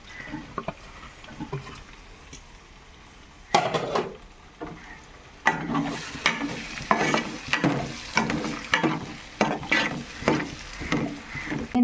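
Carrot pieces, onion, green chilli and tomato frying in oil in a pan for fried rice, with a low sizzle broken by loud repeated scraping stirs of a spoon against the pan, rhythmic and close, with no voices.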